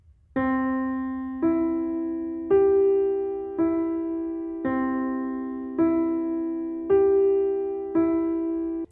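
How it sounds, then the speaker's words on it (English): Three notes of a piano chord played up and down with the sustain pedal held, eight evenly spaced ringing notes that blend and sustain, clear and alone. "And when you now press the pedal, these notes sound like this."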